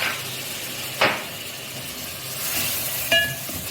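Garlic ginger paste fries with chicken in a pot, giving a steady close sizzle and hiss, with a couple of brief clinks of a utensil against the pot.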